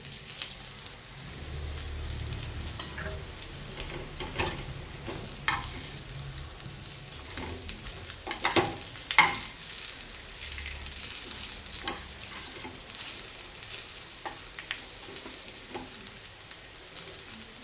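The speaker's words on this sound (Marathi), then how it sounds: "अशा पद्धतीने सगळीकडे छान भाजून घ्यायचे आहे." Colocasia leaf sandwich pan-roasting, giving a soft, steady sizzle and crackle with a few sharper pops and scrapes near the middle, fairly quiet and close, with no talking.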